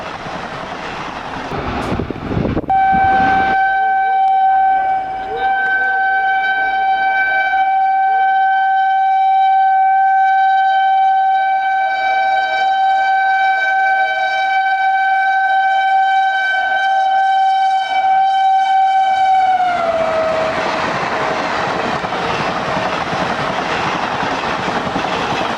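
A train races past on the tracks at about 100 km/h, loud and close, with a long sustained horn blast for most of the pass, then the roaring, rattling rush of the cars and wheels continuing after the horn stops.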